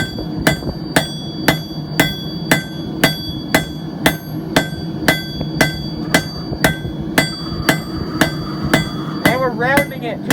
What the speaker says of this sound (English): First we're going to go back some and just give it some hammer marks.